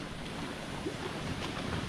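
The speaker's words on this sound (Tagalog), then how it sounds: "Dito na tayo sa ilog." River water rushing near Leling Falls in Taichung, Taiwan: a continuous, even wash of broadband flow noise, steady and fairly close, with no talking.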